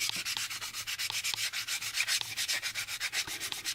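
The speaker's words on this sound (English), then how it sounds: "our cross sanding technique is pretty good at" A part of a model warp engine from the 1983 AMT U.S.S. Enterprise kit is cross sanded by hand, giving rapid, even back-and-forth scratchy rubbing strokes, close and quiet, with no voices.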